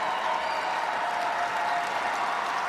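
A crowd at a state championship basketball game applauds and cheers steadily, a dense, unbroken wash of clapping filling the gym at moderate loudness.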